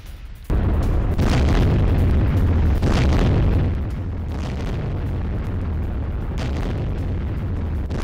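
Cluster bomb explosions in Russia's Belgorod pound close and loud, a heavy burst of deep booms and rumbling blasts that roll on continuously for several seconds, with no voices over them.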